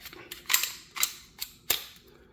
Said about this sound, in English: I'm gonna lock the slide back.